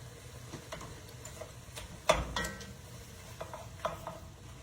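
Onion cooking in a soup pot gives a faint, soft sizzle, broken by light utensil ticks and one louder clatter partway through, with no talking.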